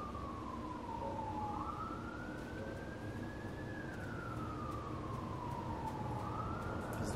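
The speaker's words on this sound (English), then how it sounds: "Police sirens?" A police siren in the video game INSIDE wails, rising and falling slowly over a steady low rumble, loud and continuous throughout, with no voices.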